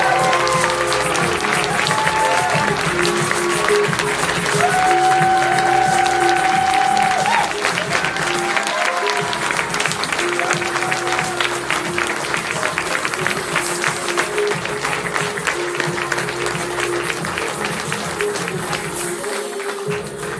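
A large crowd at the Ponyville Ciderfest applauds its sponsors, dense sustained clapping with scattered cheers that holds steady for a long stretch and slowly tapers near the end.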